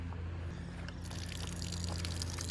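Water trickles and pours steadily at a campground, a soft continuous splashing close by that grows fuller after the first second, over a low steady hum.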